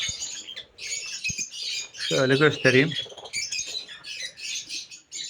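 Lovebirds in a breeding aviary keep up a busy run of high, sharp chirps and squawks that go on almost without a pause, heard close by, while someone speaks briefly over them.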